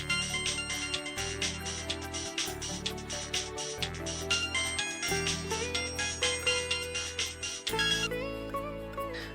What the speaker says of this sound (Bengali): তোর ফোনটা বাজছে, শুনতে পাচ্ছিস না?